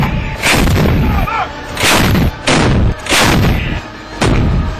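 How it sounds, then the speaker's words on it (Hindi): M777 ultralight howitzer artillery firing in mountains, several heavy booming blasts in quick succession, each with a long rumbling echo, loud and close. "उसके बाद एक एक करके ये सैनिक तोप में गोले डालते गए और धमाकों से पूरा पहाड़ गूंजता रहा।"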